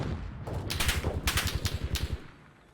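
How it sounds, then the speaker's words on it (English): Rapid bursts of automatic gunfire in a shooter video game, a fast even rattle of shots building to a dense burst and then cutting off, loud and close with no voices. "Some shots exchanged, understandably so."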